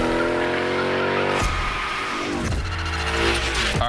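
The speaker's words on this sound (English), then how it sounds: "Let's see how you handled your first slides with the Hoonicorn." Hoonicorn car in The Crew Motorfest video game sliding through a gymkhana run, engine roaring loud and steady while tires screech and skid in bursts throughout.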